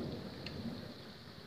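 Steady, continuous rain from a thunderstorm, with a soft low rumble beneath a broad hiss, heard alone and fairly faint.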